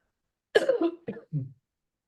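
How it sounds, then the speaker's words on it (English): Three short, harsh coughs in quick succession, close to the microphone, then silence. "I don't know why I'm coughing."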